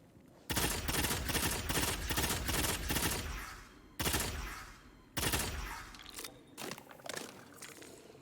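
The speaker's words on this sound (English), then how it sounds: "Bad juju's B tier. Really, really cool sounding gun." Bad Juju, an exotic gun in Destiny 2, fires in long sustained bursts, loud and close, broken by short pauses and trailing off into a few scattered mechanical clicks at the end.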